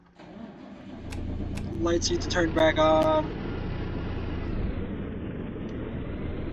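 Peterbilt 350 truck engine in American Truck Simulator, a steady low diesel drone running throughout, with brief higher mechanical tones in the middle and someone talking over it.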